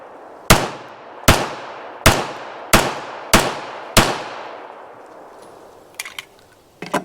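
Six sharp Springfield 1911 pistol shots crack outdoors at a steady pace, about one every two-thirds of a second, each trailing a short echo as a group is fired at a board. A few fainter clinks and shuffles follow.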